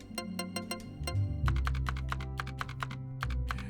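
Keys on a computer keyboard are struck in quick, uneven bursts during a game stream, each clack sharp and close, over a low steady hum.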